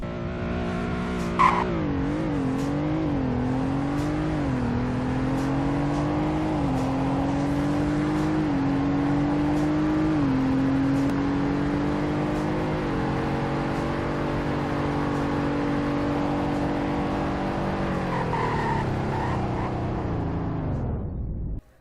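A video game car accelerating from 0 to 100 and then braking: a loud, close engine climbs through several gear shifts, holds a steady high drone, then winds down as it brakes to a stop.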